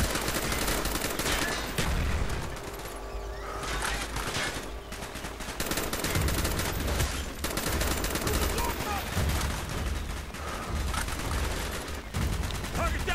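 Rapid gunfire and heavy shotgun blasts from the Call of Duty: Black Ops video game ring out in dense, continuous bursts, loud and close, mixed with game music and effects throughout.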